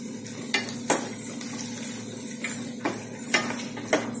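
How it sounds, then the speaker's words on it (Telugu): Ginger garlic paste fries in a pan, a low steady sizzle broken by several sharp scrapes and clinks of a spoon stirring against the metal, with no voices. "జింజర్ గార్లిక్ పేస్ట్ పచ్చి వాసన పోయేంత వరకు మనం వేయించుకోవాలన్నమాట"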